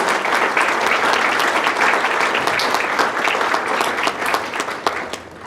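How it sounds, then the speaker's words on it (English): A crowd applauds steadily at a 2023 school academies celebration event, dense clapping sustained throughout and fading slightly near the end. "Let's give them a round of applause, please."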